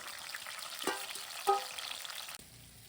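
Tomatoes frying in very hot oil in a pan, a steady crackling sizzle with a couple of sharper spits, cutting off abruptly near the end; no voices.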